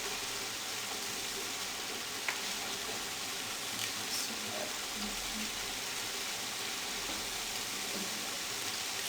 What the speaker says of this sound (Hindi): अब इसको अच्छे तरीके से हम फ्राई कर लेंगे।